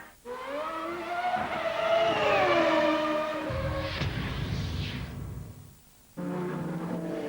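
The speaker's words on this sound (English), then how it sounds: "The Vipers and the Ferraris giving chase" GT race cars, Vipers and Ferraris, roar past at Oschersleben with rising and falling engine notes and a burst of tyre scrabble, loud and continuous, before a brief dip and the engines return.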